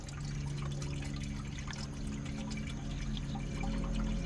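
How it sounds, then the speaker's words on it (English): Niagara purified drinking water is poured into the radiator of a 1982 Econoline van that sat for ten years, a close, steady gurgle and trickle of liquid that runs without a break for several seconds. "top her off with a little Niagara purified drinking water"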